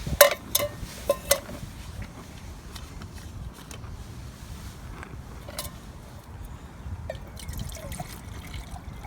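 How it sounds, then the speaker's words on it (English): Water trickles and splashes into a small camping cook pot for a backpacking meal, with a few sharp metallic clinks near the start and a steady low pour that runs underneath throughout. "Get a couple of cups of water going here."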